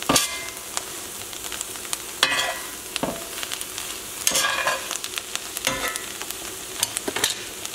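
Food being stirred in a sizzling pan while a crispy garlic and lemon crusted salmon dinner with creamed kale is cooked, steady frying hiss broken by repeated sharp scraping and clattering strokes of the utensil.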